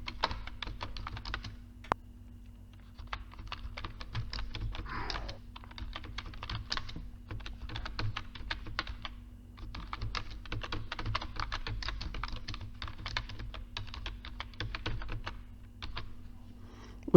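Steady bursts of typing on a computer keyboard as exam instructions are entered, with close, quick clicks in irregular runs and short pauses, over a low constant hum.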